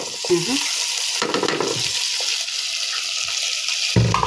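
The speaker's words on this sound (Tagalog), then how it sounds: "Then pagkatapos guys, ilagay ko na tong kinunot na isda." Flaked fish dropped into a sizzling pan of mung bean stew, with a steady close frying hiss and stirring sounds throughout, a few soft clatters, and a person briefly talking early on.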